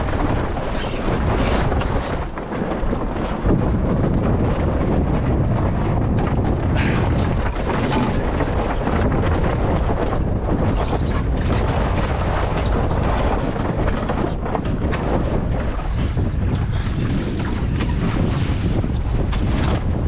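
A sailboat beats upwind after tacking in Force 6 winds. Loud, constant wind roar buffets the microphone over rushing water and spray for the whole stretch, with no voices.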